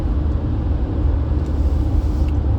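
Steady low road rumble inside a moving car at dawn, a continuous engine and tyre drone filling the cabin with no voices, only faint small knocks riding over the constant hum.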